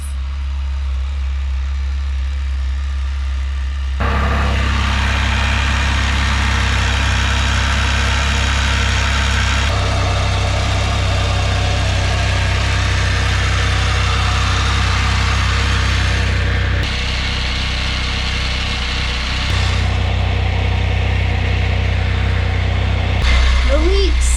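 A Can-Am Spyder F3 engine starts and settles into a loud, steady idle while the three-wheeler sits on ramps in a garage before an oil change. The low rumble stays close and continuous, with brief shifts in tone.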